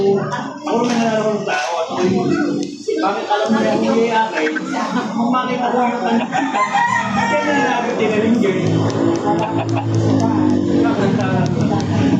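Chickens in Minecraft cluck and squawk in close, busy bursts, with chicks and a rooster-like crow mixed into a dense, steady flock clamor.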